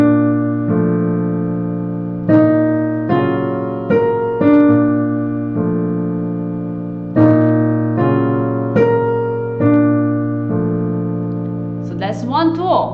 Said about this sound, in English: So let's say that I was gonna do broken chord for the entire first line.